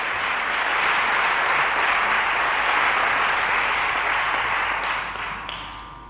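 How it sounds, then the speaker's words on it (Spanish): Audience at a conference session claps in a loud, sustained round of applause that fills the room and then tapers off near the end. "pido un fuerte aplauso para los tres"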